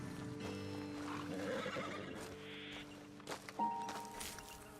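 Horses in Red Dead Redemption 2 whinny and neigh loudly near the listener, with clip-clopping hooves walking on a road ledge and a brief higher whinny toward the end.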